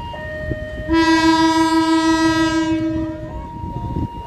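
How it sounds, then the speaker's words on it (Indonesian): A loud, deep multi-tone original locomotive horn, a Nathan RC Mega 1L, blasts once for about two seconds on departure, ship-like and sustained, over the rumble of the locomotive. "Kita dengarkan klakson keberangkatannya ya, karena masih klakson asli, kayak kapal gitu suaranya."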